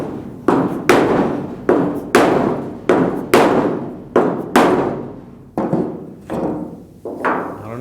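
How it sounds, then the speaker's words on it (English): A dead blow hammer strikes a block set on a GTO deck lid during fit-up on a restomod, about a dozen loud, sharp thuds at an uneven pace, each with a short ringing decay, close by and with no talk. "dead blow hammer on a block instead of a rubber mallet"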